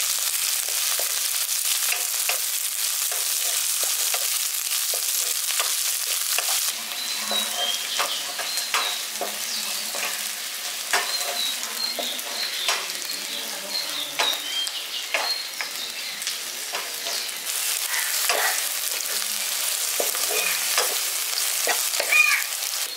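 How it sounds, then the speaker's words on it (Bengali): Chopped vegetables and green chillies fry in a pan for a chicken chatpata dish, a constant hiss of oil with frequent light stirring clicks and scrapes, close and steady throughout. "এবার সবগুলোকে হালকা করে একটু ভেজে নিচ্ছি"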